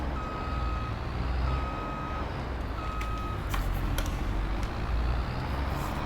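A lorry in Farming Simulator 22 gives three evenly spaced reversing beeps over a steady engine rumble, followed by a few sharp mechanical clicks.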